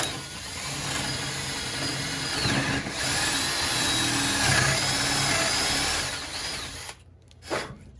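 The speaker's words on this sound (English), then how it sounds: "use the appropriate size drill bit and drill this dowel in" A power drill with an aggressive bit drives a dowel into a wooden child's chair, a steady close whine running for about seven seconds before cutting off, followed by a short brief burst.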